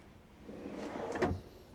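A soft-closing drawer in a motorhome slides shut smoothly and quietly, ending in a soft muted thud, close by in a quiet room.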